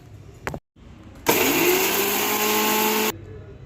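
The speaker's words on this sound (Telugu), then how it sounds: "మిక్సీ పట్టుకుందాం ఇప్పుడు ఇదంతా" A mixer grinder motor roars to life after a short clatter, whirring loudly and steadily for about two seconds before cutting off abruptly.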